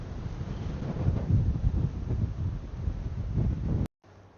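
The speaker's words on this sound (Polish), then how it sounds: "A wiatr chce urwać głowę, zobaczcie." Strong wind roars and buffets a DJI Mini Mic microphone in heavy low rumbling gusts, cutting off abruptly near the end.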